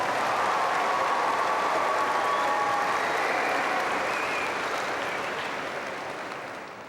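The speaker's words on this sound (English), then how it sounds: "let's give a big round of applause to the parents that helped get us here" Large crowd at a high school graduation ceremony clapping for the parents, a broad sustained round of applause that slowly fades over about seven seconds.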